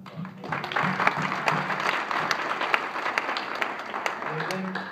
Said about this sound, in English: I'll give a round of applause.